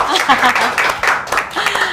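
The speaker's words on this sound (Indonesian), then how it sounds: "kita berikan tepuk tangan lagi juga" Audience applause at an Indonesian government forum on corruption prevention and regional economic strengthening, a steady wash of clapping with voices mixed in throughout.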